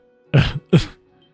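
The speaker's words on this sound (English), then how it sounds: "Cough." Two short, rough coughs from a character in the video game Trails from Zero, close and alone, followed by quiet.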